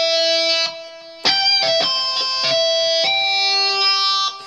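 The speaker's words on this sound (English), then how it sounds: "Your lead guitar sounds." A Roland keyboard synthesizer plays a lead guitar patch, loud sustained bright notes with sharp attacks, a short melodic phrase with a brief pause near the start.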